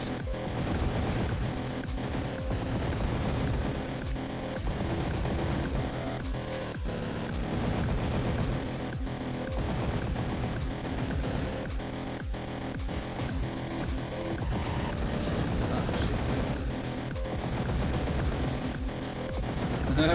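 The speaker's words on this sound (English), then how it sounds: "why don't I give the rocket launcher a try?" Explosive weapon fire and blasts from a rocket launcher in the video game Dogworld 2, a continuous dense barrage of booms and impacts for about twenty seconds, loud and steady with no talking.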